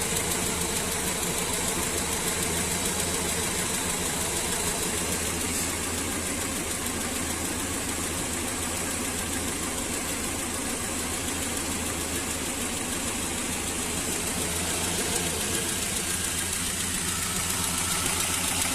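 A car engine with an internal knock idles unevenly, giving a continuous, dense mechanical rumble with a faint rhythmic clatter throughout, close and steady with no voices.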